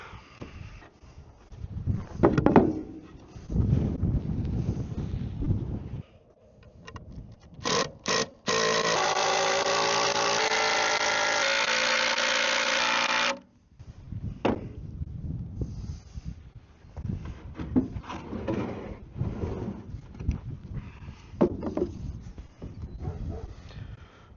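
A cordless drill drives screws into 2x lumber for a goat feed trough, a sustained whirring burst of several seconds standing out between stretches of handling noise and bumps.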